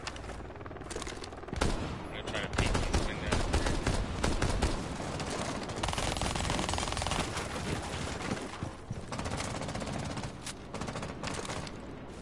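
Sustained automatic gunfire and bursts of shots rattle through a shooter video game firefight, dense and loud for most of the stretch with brief lulls between volleys.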